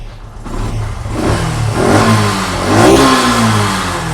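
A 2011-model auto rickshaw with a self-start and an unmodified, factory-fitted engine revs up and down twice, close by. Its rising, throaty drone swells and eases without any talk.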